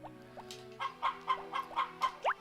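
Chickens cluck in short, bright, repeated bursts on a Harvest Moon: Back to Nature farm, a steady run of about eight game-sound calls over a faint musical background, with no talking.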